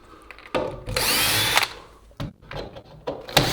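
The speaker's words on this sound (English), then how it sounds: "Remove the screws that are holding this into place." A power drill backs screws out of a mounted unit, with several loud bursts of whirring: a long run early on, then shorter spurts that start and stop. No one speaks.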